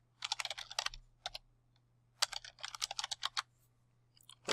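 Typing on a computer keyboard to add a text label in graphics software, heard as quick bursts of close key clicks separated by short pauses, with no talking.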